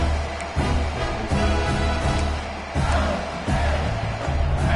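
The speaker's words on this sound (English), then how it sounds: "Very little will make a crowd hold its breath like a punt return, and he brought them to their feet on that one." Stadium crowd in the NCAA 26 college football video game roars and cheers steadily, a loud continuous wash of voices with surging swells, heard alone.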